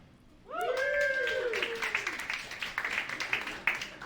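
A stand-up comedy crowd breaks into scattered applause and claps, with cheering and whoops rising at the start, then the clapping thins out toward the end.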